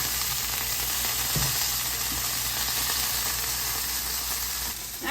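Filet mignon steaks sear in a hot pan, a loud, steady broadband sizzle running throughout with a brief louder spatter near the start and a rise in crackle at the very end.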